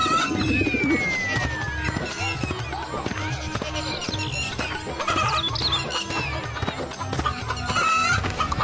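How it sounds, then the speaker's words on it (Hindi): Two large market-bought hens clucking and squawking close by amid a busy outdoor din, with scattered bird calls and some background voices. "कलुआ शाम को बाजार से 2 बड़ी बड़ी मुर्गियां खरीदता है"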